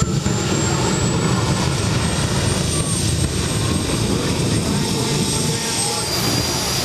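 Kamikaze Jet Quad's jet engine roaring steadily and loudly at KC Raceway in Waverly, Ohio, a broad continuous whine and rumble filling the whole stretch, with a faint high tone gliding across it.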